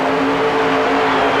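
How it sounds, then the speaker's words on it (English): A Chrysler-powered Dodge Dakota four-wheel-drive pickup at a 1991 truck pull in Saint Paul, Minnesota, drones loud and steady with its engine held at high revs under load, a continuous close roar without breaks. "It's a rare Chrysler-powered Dodge Dakota pickup."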